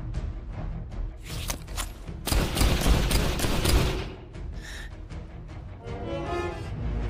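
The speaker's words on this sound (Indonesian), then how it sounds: "Billy pun lalu mengambil pistol aslinya dan menembaki John." Several sharp pistol gunshots crack in quick succession amid a dense, noisy burst of impacts, loud and close, with scattered hits before and after.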